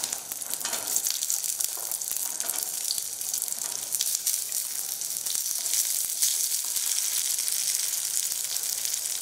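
Shallots sauté in a pan with lentils and chillies for chutney, giving a bright, constant hissing sizzle with faint stirring scrapes, close and even throughout, no speech.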